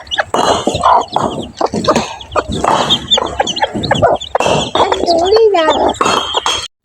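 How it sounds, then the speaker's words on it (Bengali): Chickens and chicks cluck repeatedly while feeding, a busy close-up stream of calls running under ongoing talk. "এদিকে হচ্ছে মুরগিতে খাইতেছে মুরগির বাচ্চা খাইতেছে"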